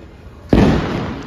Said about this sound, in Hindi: गए जगह जगह पटाखे फूट रहे हैं।